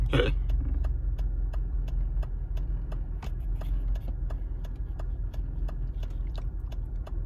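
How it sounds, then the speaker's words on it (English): A car drives along a road while making a left turn, its engine a steady low rumble throughout with faint regular ticking from a turn signal. "I'm about to make a left turn out in this bit."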